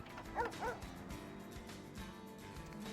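A dog in the video game Vampire: The Masquerade – Bloodlines gives two quick yips or barks early on, fairly faint and somewhat distant over a low game ambience.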